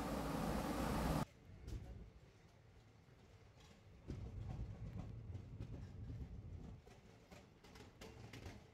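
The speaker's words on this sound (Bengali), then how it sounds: "বলতে বলতে আমাদের ট্রেন ছেড়ে দিল।" A Sealdah-Jaynagar passenger train in India departs and runs, a loud burst at first giving way to a steady rolling rumble with light wheel clatter that swells midway and eases toward the end.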